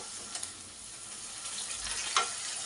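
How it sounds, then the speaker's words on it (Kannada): Tomatoes frying in a pan with ginger-garlic paste for butter chicken make a low, even sizzle, with a couple of faint taps early on and one brief clink near the end. "ಈಗ ನಾನು ಟೊಮೊಟೊ ಹಾಕೋತಾ ಇದ್ದೀನಿ. ಇದೊಂದು ಸ್ವಲ್ಪ ಚೆನ್ನಾಗಿ ಫ್ರೈ ಆಗಬೇಕು"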